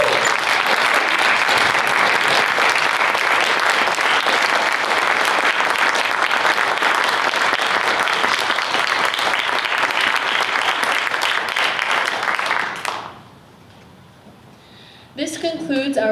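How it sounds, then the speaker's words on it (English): Sustained audience applause for standing candidates at a town candidates forum, a loud, dense round of clapping lasting about thirteen seconds, then dropping off abruptly before a voice resumes. "let's give them a warm round of applause"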